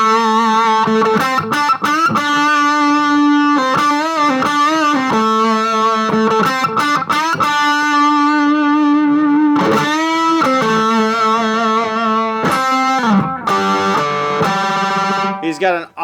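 Distorted electric guitar plays a busy riff with slides, bends and ringing harmonics, a loud sustained run of notes lasting about sixteen seconds, heard alone without talking.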